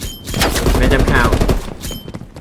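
Rapid, loud gunfire crackles through a Call of Duty Black Ops Cold War beta match, dense overlapping bursts and shots filling the scene before easing off near the end.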